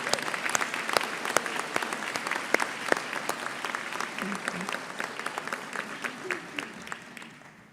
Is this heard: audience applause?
yes